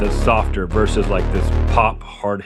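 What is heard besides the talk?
No distinct noise like a dog, phone or traffic.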